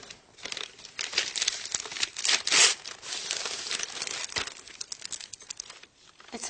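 Paper crinkles and rustles continuously as a handmade gift is unwrapped, with close crackling bursts that peak midway and no talk.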